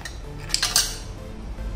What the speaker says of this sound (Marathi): 3-4 बर्फाचे क्यूब्स घालायचे